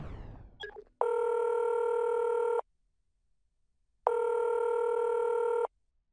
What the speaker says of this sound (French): Le téléphone ne décroche pas.